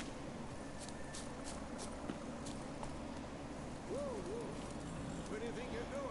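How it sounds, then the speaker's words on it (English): Video game horse hooves clip-clop at a steady trotting rhythm on a road in The Witcher 3, fairly faint under background music, with a brief whinny-like tone near the end. "Horses."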